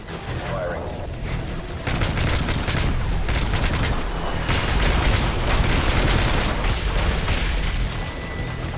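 Heavy air-support gunfire rakes targets in Call of Duty: Modern Warfare 3, a sustained loud barrage of booms and bursts rolling on for several seconds with battlefield noise throughout.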